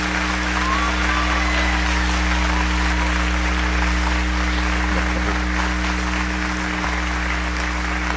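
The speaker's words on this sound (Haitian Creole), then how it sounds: "Battons gros bravo pour eux, s'il vous plaît." At a live talent show finale, an audience applauds steadily and continuously, a dense clapping texture laid over a low hum from the venue's sound system, with no voices.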